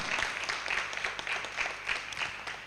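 Applause from an audience at a sustainability product launch, moderately faint and somewhat distant, with rhythmic pulses of clapping that rise and fall steadily.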